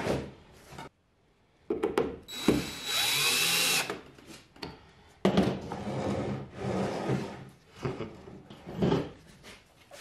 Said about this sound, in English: Now I'm just going to go ahead and cut out the circle